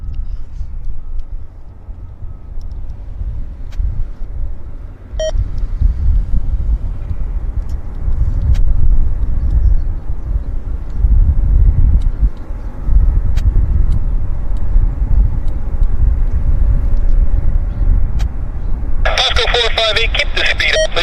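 A WestJet airliner arrives at Vancouver airport with a broad, continuous low rumble of engine and roar that swells and holds throughout, under occasional faint radio chatter and a brief crackle near the end.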